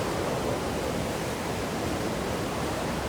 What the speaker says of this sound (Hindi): तो ये जो आवाज़ आ रही थी नदी की, ये वही नदी है, देखो वो पीछे बह रही है।